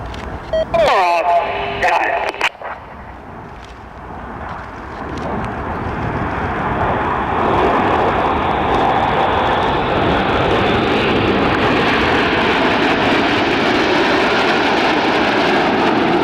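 Red Arrows jets flying a display at an air show, heard as a building, roaring jet rumble that swells from a quieter start into a sustained loud wash, with a commentator's voice over a public address at the beginning.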